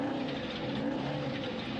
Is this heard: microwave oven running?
no